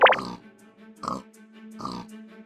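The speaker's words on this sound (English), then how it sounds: "Wait, is that a creeper pig?" Grunts from a creeper pig in Minecraft, three short oinking bursts spaced about a second apart, close and fairly loud, with no other sounds between them.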